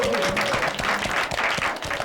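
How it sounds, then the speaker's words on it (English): Audience applause at a live midnight variety show, a brief burst of many hands clapping loudly with a little crowd noise mixed in. "Give me a round of applause for everybody here."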